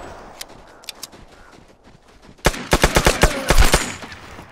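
Gunfire in the team shooter game Vigor: a few scattered single shots, then a rapid burst of loud, closely spaced shots in quick succession near the listener.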